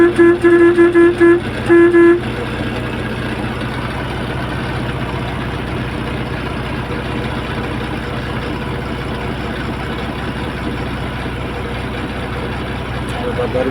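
A bus horn blares in a rapid run of short, loud toots, then gives way to a steady engine and road drone heard from inside the travelling bus.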